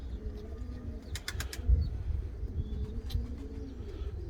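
Pigeons coo softly close by while a quick burst of wing flaps breaks in near the middle and another brief flutter follows, over a low background murmur.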